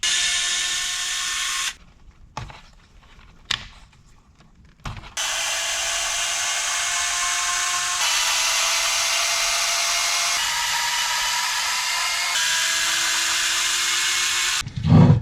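A power drill backs screws out of a Traxxas Slash 2WD RC car chassis, first in short whirring bursts, then in one long steady high whine close to the mic.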